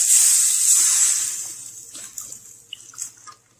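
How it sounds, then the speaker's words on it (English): Red wine poured into a hot pan for deglazing while making sauce, giving a loud, bright sizzling hiss that peaks at once and then slowly fades, leaving a few faint pops and crackles near the end. "What you're going to do is basically clean the pan with the alcohol."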